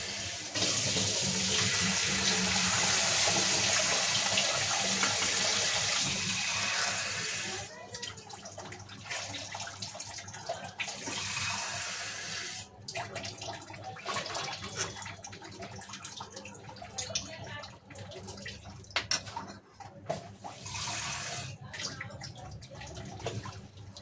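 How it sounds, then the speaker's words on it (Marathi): Water is poured into a pan of cooked curry masala for aloo matar bhaji, a steady splashing stream for about seven seconds, followed by quieter scattered clinks and handling noises. "आपण याच्यामध्ये पाणी टाकून घेणार."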